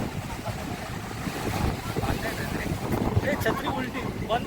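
Sea waves crash against the Worli seafront in Mumbai during heavy rain, a rough roaring wash under strong wind buffeting on the microphone, with people talking close by.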